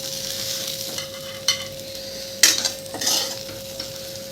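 A spoon stirs grated coconut and coriander leaves into a cooked dill-greens dish in a pan, giving a few scraping strokes and metallic clinks over a faint, steady sizzle.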